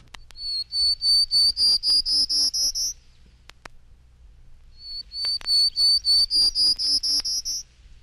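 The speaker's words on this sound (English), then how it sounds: "Prairie Warbler" Prairie Warbler song: two runs of high, thin buzzy notes that climb steadily in pitch, each series lasting about two and a half seconds with a pause between, clear and alone with no voices.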